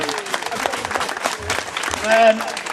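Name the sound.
applause for Osman and Hassan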